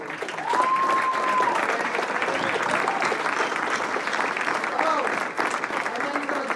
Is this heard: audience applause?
yes